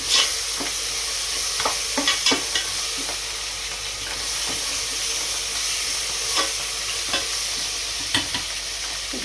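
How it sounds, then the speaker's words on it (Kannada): Homemade ginger garlic paste, about 150 grams, fries in a pot for a pressure-cooker chicken biryani, with a steady sizzle broken by frequent scraping clicks from the stirring spoon, close and with no voices. "150 ಗ್ರಾಮು ಶುಂಠಿ ಬೆಳ್ಳುಳ್ಳಿ ಪೇಸ್ಟು ಮನೆಯಲ್ಲೇ ಫ್ರೆಶ್ ಆಗಿ ಮಾಡ್ಕೊಂಡಿರೋದು ಶುಂಠಿ ಬೆಳ್ಳುಳ್ಳಿ ಪೇಸ್ಟ್ನ ಆ್ಯಡ್ ಮಾಡ್ಕೊತಾ ಇದ್ದೀನಿ"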